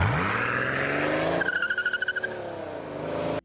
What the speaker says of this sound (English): The Germans have some of the best sounding engines.